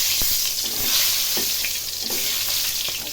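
Meat and potatoes fry together in a pan, a close, continuous sizzle with scraping stirs and occasional knocks of the spoon against the pan, steady and loud throughout.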